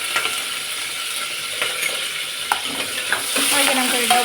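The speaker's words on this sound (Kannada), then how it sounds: "ಚೆನ್ನಾಗಿ ಲೋ ಫ್ಲೇಮಲ್ಲಿ ಇಟ್ಕೊಂಡು ಹೀಗೆ ತಿರುಗ್ತಾ ಹೋಗಬೇಕು" Capsicum and green chillies fry in oil over a low flame, a bright steady sizzle with the clink and scrape of a spatula stirring every second or so, close up.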